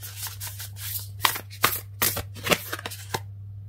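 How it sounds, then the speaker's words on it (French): Tarot cards being handled and shuffled close up, a quick run of crisp riffling flicks and slaps over a low steady hum, with no talking. "je vais prendre une carte de"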